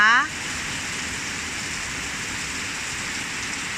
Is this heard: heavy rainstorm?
yes